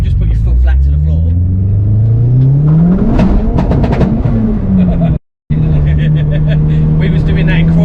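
A 380hp Mk6 Ford Escort sleeper with a swapped engine revs hard under full throttle, the pitch climbing steeply, then a brief cut before settling into a steady loud drone, heard close up.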